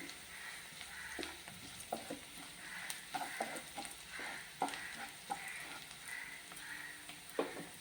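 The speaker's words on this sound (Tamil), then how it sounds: "வெங்காயம் நல்லா கொஞ்சம் வதங்கணும்." Onions sauté in a pan while being stirred for a coconut rice upma, a soft steady sizzle broken by light scraping clicks of the spoon, quiet and with no talking.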